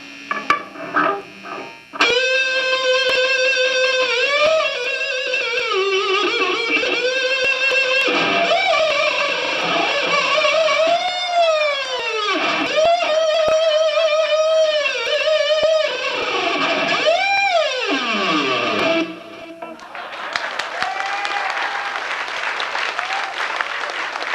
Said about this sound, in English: it's so much distortion that you can actually sing through the pickup. It sort of becomes a big electric kazoo.